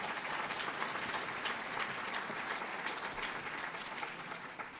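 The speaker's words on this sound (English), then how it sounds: "let's give you all another round of applause." Sustained audience applause at a keynote speech for a 2016 school commencement event, a dense, steady wash of clapping from a large crowd that holds even throughout, with no talk over it.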